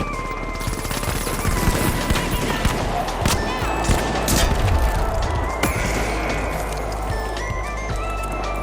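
Rapid gunfire in the video game The Finals, dense overlapping shots and bursts continuing loudly across the whole stretch.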